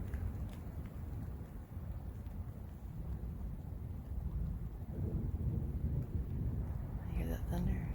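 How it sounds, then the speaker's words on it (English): Thunder rumbling during a storm at the Mogollon Rim, a long low roll mixed with wind buffeting the microphone, with a brief crackle near the end. "I hear that thunder."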